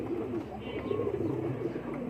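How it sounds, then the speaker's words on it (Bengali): A pet pigeon coos softly and close by in low, repeated rolling phrases over a quiet background. "এই যে আমার কবুতরটা, কবুতরটা দেখেন বাচ্চা"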